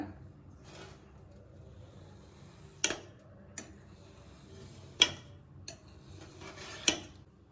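A knife cuts homemade fruit jelly into shapes, giving a few sharp, isolated clicks and taps of the blade against the surface over quiet background.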